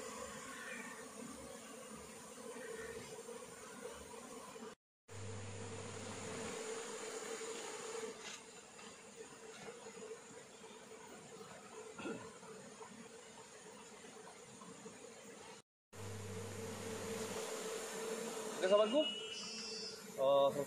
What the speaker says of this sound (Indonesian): lihatlah reaksi lebah ketika mereka mengetahui sosok ratu lebah berada di kotak budidaya